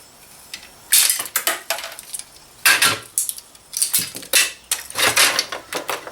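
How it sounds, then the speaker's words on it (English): Wrench cracking open the small black plastic box of a scrapped surge protector, a series of sharp knocks, clacks and rattles up close, uneven and loud, with no speech. "A wrench and just crack it."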